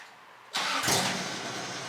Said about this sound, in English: Okay, turn on the truck.